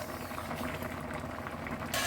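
Raw green mangoes boiling under a lid in a pot for mango leather, a steady low bubbling simmer running throughout, with a brief brighter hiss near the end.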